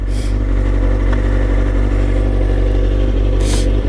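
A motorcycle carrying a passenger rolls to a stop, its engine running as a steady, close, loud rumble with a couple of brief hissing bursts over it.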